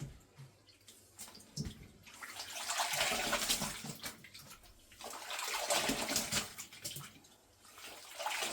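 Handspun yarn is gently washed by hand in a basin of water, giving soft, close sloshing and splashing in slow waves with trickles and drips in between, quiet overall and with no talking.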